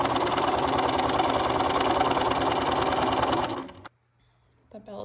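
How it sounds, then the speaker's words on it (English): A sewing machine stitches the final line along a fabric belt, running in a fast, steady, loud mechanical whir for over three seconds before stopping abruptly, followed by a quiet pause and a faint handling noise. "this will be my final line of stitching for the belt"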